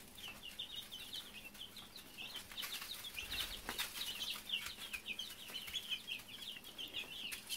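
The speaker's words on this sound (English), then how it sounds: "These chicks have been so fun." A flock of Cackle Hatchery chicks peeps continuously in a brooder, a busy chorus of high, rapid cheeps at close range with faint rustling underneath.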